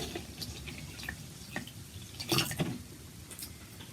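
Water trickles and splashes faintly into a container as it is poured, with a few soft drips and a brief fuller gush near the middle of an otherwise quiet scene.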